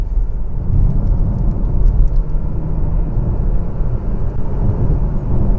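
Porsche Macan S Diesel in sport mode with a PDK gearbox, heard from inside the cabin as a steady low engine and road rumble at moderate, even loudness, without speech.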